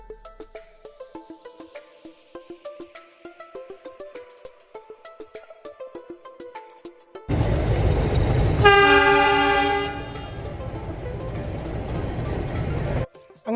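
Nilgiri toy train running toward Coonoor: soft plucked tonal notes give way to a loud, close rumbling run, with a sustained horn blast partway through and heavy rolling noise continuing to the end.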